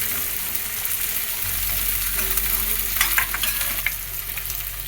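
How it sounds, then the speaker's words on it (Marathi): Onions sautéing in a pan with a little salt for a jackfruit curry: steady hissing sizzle with occasional stirring scrapes and clicks, close and continuous, with no talk. "थोडंसं परतून घ्यायचं आहे."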